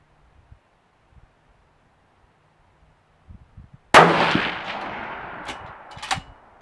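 A single loud rifle shot cracks close by, fired while zeroing a DNT 7-35 scope, its echo trailing off for a few seconds after a few faint handling knocks beforehand.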